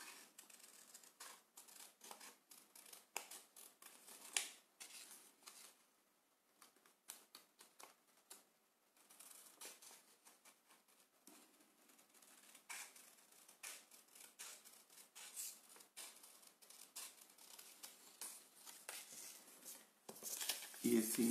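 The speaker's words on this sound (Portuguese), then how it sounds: "E assim cortamos a vela." Scissors cutting a sail for a 1/40 scale Dori model kit, giving a run of close, crisp snips and paper-like rustles that come in bursts across the stretch, with brief quiet gaps between cuts.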